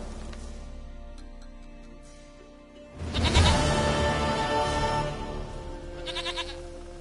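A goat bleats several times in The Witcher 3, with quiet ambience at first, then a louder burst of bleating and scuffling around the middle and a short final bleat near the end.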